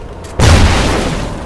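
A grenade bursts in the Call of Duty Ghosts video game: one sudden, loud boom that hits after a brief quiet lead-in and then rumbles out in a noisy decaying wash.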